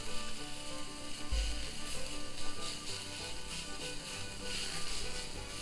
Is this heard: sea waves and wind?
no